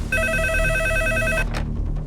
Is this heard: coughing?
no